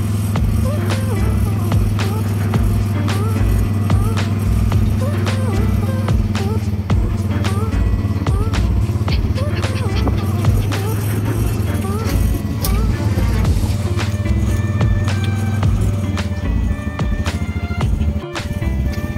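A Bajaj RE facelift auto rickshaw motors along with a steady, buzzing small-engine drone and road rumble from inside the cabin, loud and continuous throughout, with voices heard over it.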